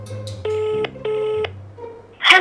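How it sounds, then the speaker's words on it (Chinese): Two long electronic tones ring out on an outgoing phone call, each about 0.4 seconds with a short gap between. A low hum runs under them and a sudden burst of noise follows at the end. "我再 call 多一次 Bryson"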